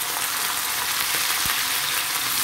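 Raw plantain frying in a little oil in a kadai gives a steady, close, broadband sizzle that runs unbroken throughout, with one brief low thump near the middle.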